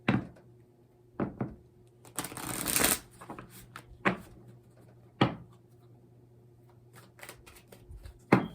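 Oracle cards are shuffled and tapped by hand in a quiet room, with a longer riffling burst among several short knocks and slaps, close and fairly soft.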